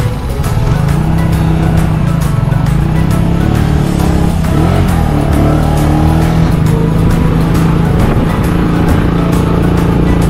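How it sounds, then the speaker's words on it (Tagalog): A tricycle motor drones steadily and loudly throughout a road trip in Medellin, Cebu, its engine hum holding a constant pitch with road and wind noise layered over it and no voices. "Road trip po na kami gamit ang tricycle dito."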